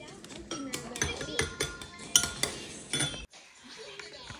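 Cutlery clinking against dishes while soup is eaten, with several bright clinks and scrapes over a busy background and a voice talking nearby.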